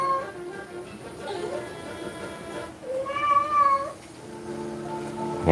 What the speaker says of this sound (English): so I don't hear the cat so much